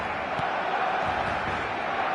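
A football match-day stadium crowd roars as a steady, loud wall of noise with no pauses, heard from within the stands.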